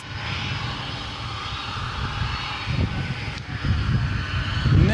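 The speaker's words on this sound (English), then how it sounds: "that's Turkish Flight 192 off to Istanbul" A jet airliner, Turkish flight bound for Istanbul, takes off from a DFW airport runway at night, a loud steady engine roar swelling slightly toward the end with no talk over it.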